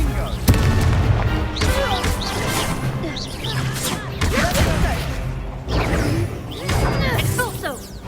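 Spell blasts from the video game Hogwarts Legacy, including the Confringo fire spell: repeated booming bursts and whooshing impacts in quick succession during a duel, loud and close, with a voice calling out spells between them.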